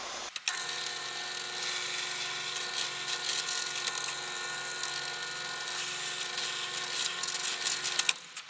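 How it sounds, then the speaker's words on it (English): An electric drill bores dowel holes in wood for a pickup routing template, a steady high whining motor drone running continuously for several seconds, close and loud, starting and stopping abruptly. "make sure everything stays in perfect place while I drill our dowel holes"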